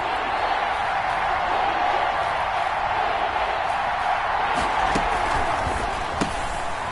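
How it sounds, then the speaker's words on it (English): Stadium crowd in an American football video game, roaring during a big fourth-quarter third down with Tampa Bay, holds as a steady, dense wall of cheering throughout, with a few sharp thumps near the end. "The crowd getting into it as we come up on a big 3rd down."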